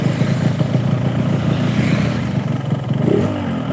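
A Yamaha RX two-stroke motorcycle with a rough-sounding engine, revving loudly and close by in a continuous raspy, clattering roar that barely lets up.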